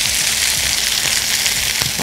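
Mushrooms fry steadily in a pan, giving a dense, close, continuous sizzle with faint crackles and no voices.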